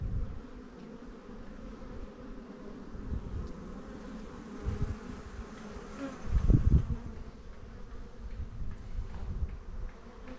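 Honeybees arrive at the entrance of a young colony's hive, some carrying pollen, making a close, continuous low buzzing that swells briefly as individuals fly in.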